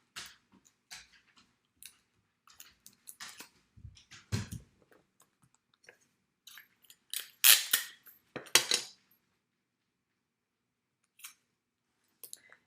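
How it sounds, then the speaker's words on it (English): Paper worksheets being taped down, with scattered quiet clicks, taps and rustles and a few louder bursts of tape being pulled and torn from the roll, set apart by silences. "Just going to go down and tape everything."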